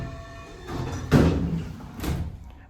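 An Otis 211 lobby elevator door at a Denver hotel slides along its track, a slow rumbling glide with a soft thump as it settles, followed by a second fainter bump.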